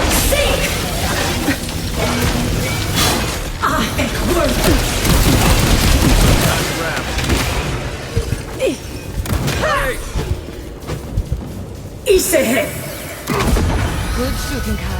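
Gunfire and explosions in the fantasy video game Avowed: loud booms and thuds in quick bursts, with battle noise and shouted voices over a continuous roar.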